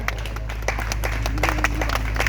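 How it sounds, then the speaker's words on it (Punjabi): Audience applause at an anti-drug stage play, heard as a patter of many hands clapping at close to moderate distance, uneven and lively over a low background hum. "ਜ਼ੋਰਦਾਰ ਤਾਲੀਆਂ"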